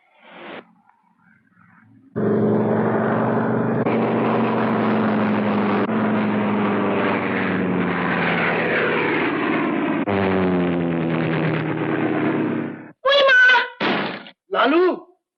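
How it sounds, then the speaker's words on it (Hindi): A propeller airplane circles overhead in an old Hindi film scene, its steady engine drone holding for about ten seconds with a slowly sliding pitch, followed by a few short, sharp bursts near the end. "अरे हवाई जहाज चक्कर क्यों काट रहा है?"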